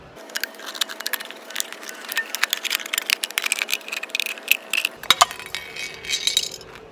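An aluminum can having its top cut off, with a quick run of close, crisp metallic crunches and clicks, followed by a brief louder snap near the end.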